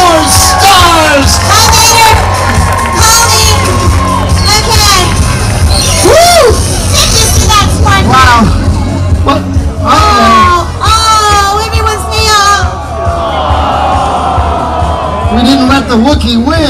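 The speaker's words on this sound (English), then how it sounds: "how about a big round of applause for the winners of Dance-Off with the Star Wars Stars" A loud crowd at a Star Wars fan event cheers, whoops and shouts for dance-off winners, a dense roar of many voices with excited yells rising over it throughout.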